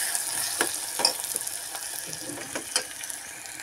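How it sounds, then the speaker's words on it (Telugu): Beetroot pieces sizzle in a hot pan, a loud steady frying hiss with several scraping stirs of a utensil against the pan, close and without speech. "ఈ ముక్కలు వేసేసాను. వేసిన తర్వాత ఒక ఇలా కలుపుకొని"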